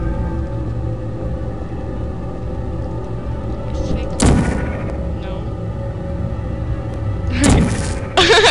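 In the video game Portal, the portal gun fires twice, each a sharp electronic burst with a quick zap tail, standing out over a low humming game ambience.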